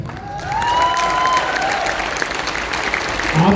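An audience at a motivational seminar breaks into loud, dense applause that continues for several seconds, with some crowd noise mixed in.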